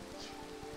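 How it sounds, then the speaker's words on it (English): Rain falls in a Minecraft modpack, a steady soft patter with a faint low pulsing rhythm, continuous and quiet throughout. "I did not want it to start raining right now"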